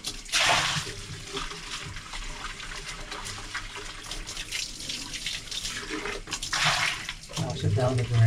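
Tap water gushes into a paint-clogged bucket to rinse the paint out, a loud splashing rush that swells and eases as the bucket is moved under the stream.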